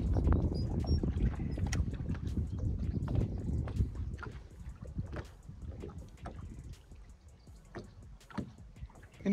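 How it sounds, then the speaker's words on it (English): Wind buffets the microphone on a fishing boat, a rough low rumble that is strongest early and eases off, mixed with scattered knocks and bumps from the boat. "I hope you can hear me for the wind."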